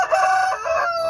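An ayam kampung jerai rooster crows close by, a single loud drawn-out cock-a-doodle-doo call with wavering pitch, heard alone without talk.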